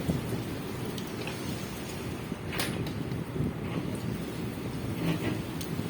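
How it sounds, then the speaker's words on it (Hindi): Dense, steady rain pours down on a terrace with a broad hiss, with a few sharper splashes and gusts breaking through; no voices. "टेरेस में बाहर खड़ी है और उसकी बारिश बहुत ज़्यादा तेज़ है।"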